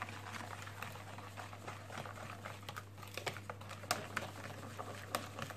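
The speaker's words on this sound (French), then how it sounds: "Je mélange." Chocolate cake batter made with Danette yogurt being mixed by hand in a bowl: soft, irregular clicking and scraping strokes with light wet patter over a steady low hum, fairly quiet, no talking.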